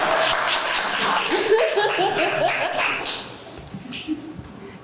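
Audience clapping at an artist reception for a community art exhibition, a scattered flurry of claps with some chuckling and voices mixed in, fading out after a few seconds.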